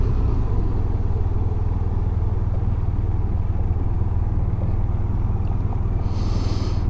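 Steady low engine drone and wind rush of a Honda SilverWing scooter cruising at highway speed, constant and close throughout.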